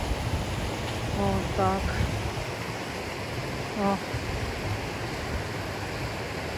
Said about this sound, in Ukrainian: Водоспад Кам'янка